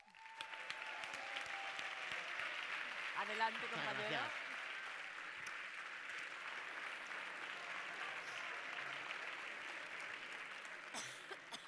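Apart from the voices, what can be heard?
audience applause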